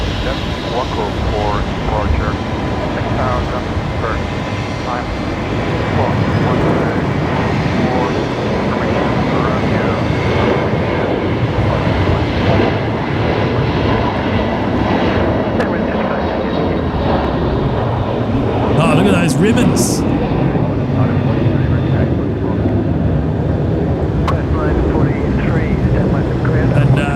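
A Qantas airliner at Brisbane Airport roars steadily through a long departure, its engine noise broad and continuous at close range, with a spotter's voices and radio chatter mixed in beneath.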